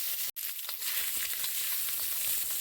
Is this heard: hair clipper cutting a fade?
no